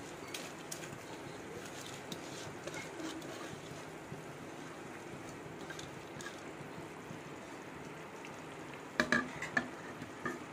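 Soaked basmati rice being stirred into mushroom biryani in a pot gives a soft, continuous low simmer and scrape with a few faint clinks, and a louder knock of the spoon against the pot near the end.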